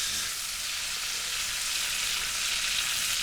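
Onions sizzle gently in a garlic butter and olive oil mix, a steady, even frying hiss that holds constant throughout with no voices.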